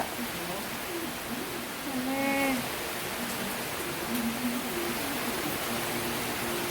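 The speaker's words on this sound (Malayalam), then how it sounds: "എന്ത് മഴ മോനെ ഭയങ്കര മഴ" Heavy rain falling with wind as a steady, dense hiss, while a voice speaks briefly over it.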